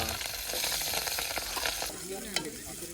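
Onion and tomato frying in oil in a pot, a steady close sizzle with stirring scrapes throughout and a brief sharp clink near the end.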